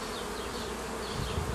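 Honey bees buzzing around a drone brood frame during hive work, a dense, continuous close-up hum filling the whole short stretch.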